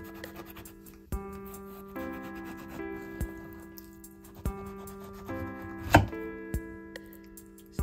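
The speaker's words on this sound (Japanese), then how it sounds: "少しずつ包丁を深く入れて切っていきます。" A knife slicing through sea bass with quiet scraping strokes and occasional sharp taps against a board, under a steady low hum.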